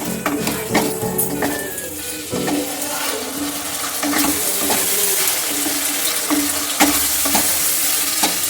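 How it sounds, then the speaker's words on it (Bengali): Egg tarka stirred in a pan after chilli powder goes in, a steady close sizzle with repeated scraping strokes of the spoon and occasional clatter, no voices. "লঙ্কার গুঁড়ো দেবো পরিমাণ মতো, নাড়াচাড়া করে নেবো"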